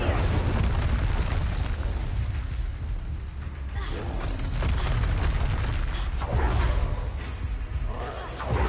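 Incendio fire spell cast in Hogwarts Legacy: a loud, dense roar of flame with booming bursts and mechanical creaks, sustained throughout with swelling blasts near the end.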